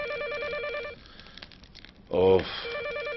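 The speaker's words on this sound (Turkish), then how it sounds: "Yahu bir bakan yok mu şu telefona?" An old-style telephone rings with a warbling electronic trill in a Turkish domestic scene, repeating in bursts, with a voice cutting in loudly between the rings.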